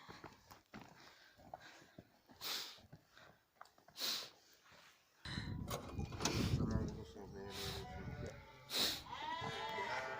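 Sheep bleat several times in a barn setting, loud and close, with people talking and moving around between the calls.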